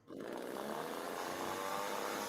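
A chainsaw runs steadily at high revs for about two seconds, starting abruptly after a brief quiet moment and staying loud with a continuous buzzing drone and no voices.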